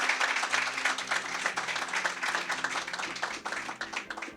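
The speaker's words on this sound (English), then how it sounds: "let's give him a round of applause" Moderately loud audience applause at the 2019 National Manager of the Year awards ceremony, a brisk, even patter of many hands clapping through the whole stretch.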